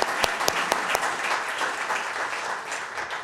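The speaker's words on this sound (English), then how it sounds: "You can clap." Audience applause at a city council farewell, opening with a few sharp, loud nearby claps and spreading into steady, moderately loud clapping from the room.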